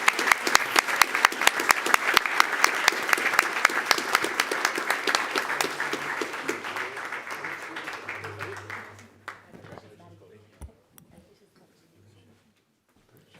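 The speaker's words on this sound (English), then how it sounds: "How about another round of applause?" At a school board meeting, a crowd claps for an honored coach and athlete, with brisk, close applause that gradually thins and fades to silence, broken by a few late claps and faint talk.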